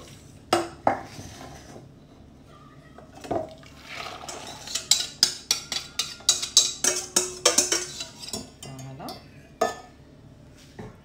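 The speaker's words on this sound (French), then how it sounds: "je vais bien mélanger et je vais tout remettre dans ma casserole" Utensils clink and scrape against a saucepan in a quick run of stirring strokes for a fruit tart filling, with scattered knocks and a little liquid movement.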